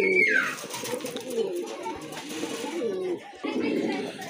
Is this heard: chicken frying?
no